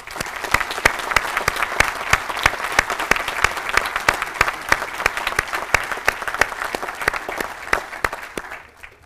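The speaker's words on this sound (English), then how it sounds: "please join me in a round of applause for the entire staff here at Training Center Cape May" Sustained applause from an assembled crowd at Coast Guard Training Center Cape May, honoring the center's staff; many hands clap in a steady, crisp stream for several seconds before tapering off at the end.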